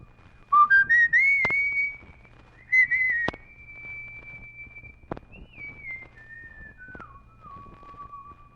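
A boy whistles a simple tune, rising quickly to long held notes, then pausing and stepping down through lower held notes, clear against a quiet background.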